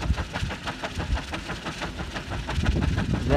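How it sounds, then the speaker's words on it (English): Loose leading-edge tape on the spinning blades of a Bergey 10 kW wind turbine on a tower in a good productive wind gives a steady, rushing roar with a fast repeating beat that swells slightly toward the end. "That noise is probably caused by a loose piece of tape,"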